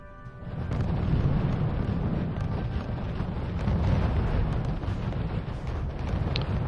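Pushka artillery guns in the RUSE strategy game pound an enemy base with a dense, continuous low booming rumble, layered with scattered sharper blasts throughout and no voices.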